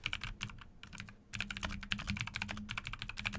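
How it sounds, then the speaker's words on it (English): Rapid keystrokes on a computer keyboard clatter in dense, uneven bursts with a brief pause near the start, close and fairly clear, with no talk over them. "I can hear you typing"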